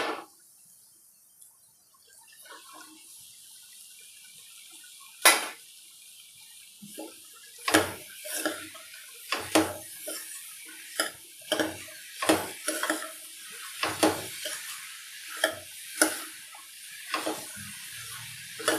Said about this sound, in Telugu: ఇప్పుడు బీరకాయలు వేసుకోవాలి.